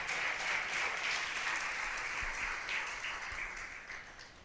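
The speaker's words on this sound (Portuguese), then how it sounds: "Dê um aplauso a Jesus e um grito de vitória." A church congregation claps in sustained applause during a sermon, a thick, even wash of many hands that slowly fades toward the end.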